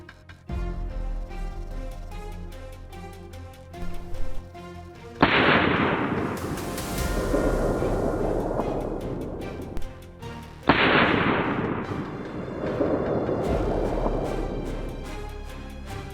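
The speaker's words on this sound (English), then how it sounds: "The sharp crack of the rifle startled them, causing them to split and dash off in opposite directions." Two sharp rifle shots aimed at a pair of feral hogs on an Arizona farm, each a loud, close crack followed by a long rumbling decay, spaced about five seconds apart over a steady tonal background.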